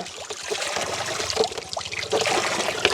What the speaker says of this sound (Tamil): அதில் தம்பி தண்ணி அடிச்சு எடுக்கிறார் வேறு குழாய் கிணறு இது குழாய் கிணறு